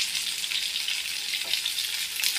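Fish frying in a pan, a steady dense sizzle of hot oil, close and continuous with no talk.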